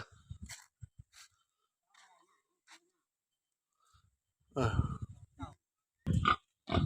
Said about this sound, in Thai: นี่พี่น้องเลี้ยงหมู หมูแม่พันธุ์ตัวนี้